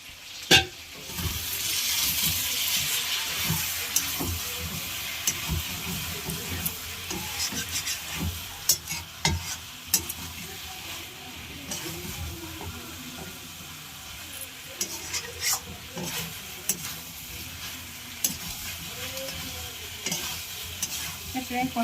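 Jackfruit and prawn curry being sautéed in a pan with the lid put on and off: continuous sizzling with frequent stirring and scraping clatters, close and fairly loud, a faint voice in places.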